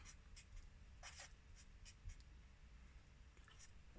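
Pen or pencil scratching across paper while a bike is sketched by hand, a quiet run of short strokes and taps with faint room hiss.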